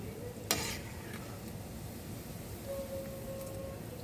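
Kodbale snack dough frying in hot oil, a steady low bubbling sizzle with one sharp clatter near the start and a faint tonal hum later on.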